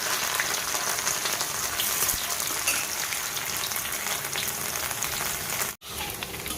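Paneer frying in a very hot kadai, a steady dense crackling sizzle that holds evenly for several seconds, breaking off briefly near the end before resuming.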